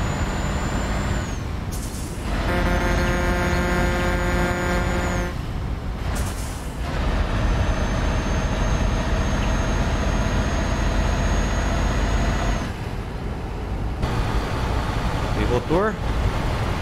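A Scania truck engine in Euro Truck Simulator 2 drones steadily and loudly throughout, with air-brake hisses and tonal revving bursts breaking in, alone without talk.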